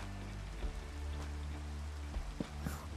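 Steady rain patters on a surface, a continuous hiss with scattered drops and a low hum underneath, no voices, in Minecraft played in VR.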